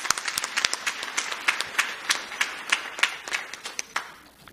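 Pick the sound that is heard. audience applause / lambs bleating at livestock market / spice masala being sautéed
audience applause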